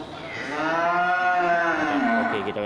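A large young Aceh cow moos loudly and close by at a livestock market, one long drawn-out harmonic low that rises and then falls, standing alone without talk.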